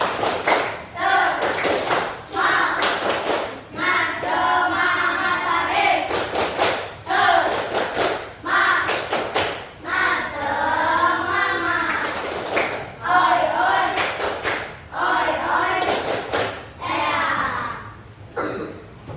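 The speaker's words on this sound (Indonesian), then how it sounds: "Tepuk semangat satu." A group, likely children in a classroom, performs a rhythmic clapping chant, tepuk semangat, with sharp unison claps in repeated patterned bursts alternating with chanted voices, loud and close.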